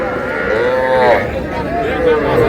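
Loud, drawn-out moos from young bulls sound close by, two long calls with a short break between them.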